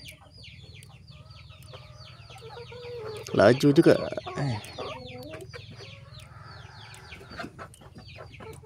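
A Rhode Island Red chicken clucks close by in a backyard coop, and a louder burst of agitated squawking and flapping rises in the middle. Someone speaks briefly over the steady low hum.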